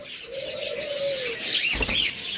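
Lutino opaline pet birds at a bird shop give a clear rising-falling whistled call, then a short burst of chirps and rustling close by, with no voices.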